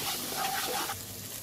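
Ground spice paste with salt, turmeric, coriander and Kashmiri chilli powder sizzles steadily in a hot pan while being stir-fried for a Bengali fish kofta curry, then quietens slightly midway.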